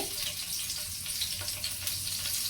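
Mustard seeds and cumin sizzle in hot coconut oil, a steady, fairly quiet hiss and crackle throughout with a few faint pops, close by and without talk.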